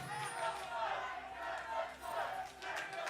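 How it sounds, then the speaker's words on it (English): A rowdy arena crowd at a League of Legends LCS esports match between Team Liquid and TSM roars and shouts continuously, a dense wash of voices swelling and dipping in waves, loud and sustained. "It's a rowdy crowd."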